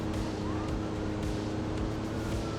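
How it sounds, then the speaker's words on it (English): A police car siren wails in a video game car chase, heard continuously amid loud engine and road noise from the player's battered junk car. "Oh no, there's another cop car."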